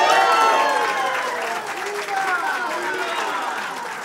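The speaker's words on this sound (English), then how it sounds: "A crowd cheering inside the government house in Agana Heights" Crowd cheering and applauding inside Government House in Agana Heights as a pay-raise bill is signed into law, a dense wash of clapping and voices that stays loud throughout, with excited chatter mixed in.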